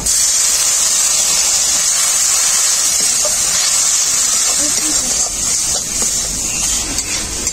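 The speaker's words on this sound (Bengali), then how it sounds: "মশলাটাকে খুব ভালো করে কষানোর জন্য অল্প একটু জল দেব" A little water is poured onto a spice paste of chili, turmeric, cumin and coriander powders frying in a pan, producing a loud, continuous hiss of steam and sizzle throughout.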